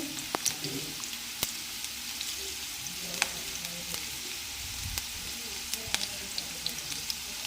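Green chillies frying in a pan for mirchi pachadi, a steady close sizzle with sharp spatula clicks and scrapes scattered throughout.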